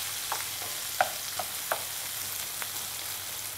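Courgettes frying with bacon lardons in olive oil in a pan, a steady close hiss with a few light clicks and pops scattered through it.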